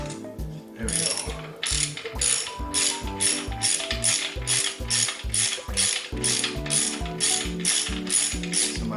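A ratchet wrench works bolts loose during removal of a Suzuki DR650 motorcycle engine, a loud close run of rapid metallic clicks repeating in steady back-and-forth strokes for several seconds, no one speaking.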